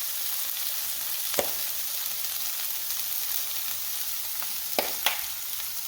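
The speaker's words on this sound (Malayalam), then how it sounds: "ബാക്കി മുളക് പൊടി, മല്ലിപ്പൊടി, ഗരം മസാല, മഞ്ഞൾപ്പൊടി ചേർത്ത് കൊടുത്ത് നന്നായി മുരിച്ചെടുക്കാം." Onion masala frying in a pan with chili powder, coriander powder, garam masala and turmeric for a Kerala prawn roast: steady close hiss of sizzling oil, broken by a few sharp scrape and stir clicks, with no talk.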